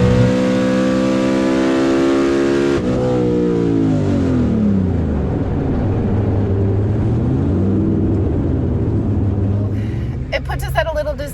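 A drag race car at an NMCA event in Rockingham, North Carolina, roars loudly through a run, engine pitch climbing steadily then dropping at a gear shift into third before climbing again, sustained and close throughout.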